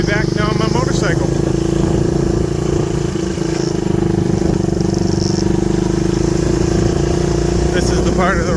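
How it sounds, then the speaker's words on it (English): A motorcycle rides along a backcountry road in Bolivia, its engine droning steadily and close with a strong tonal hum, rattles and wind noise, continuous and loud throughout. "on my way back now on my motorcycle"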